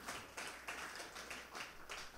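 A church congregation applauding the Lord during a sermon, faint rhythmic clapping in steady bursts at a distance, with no one speaking.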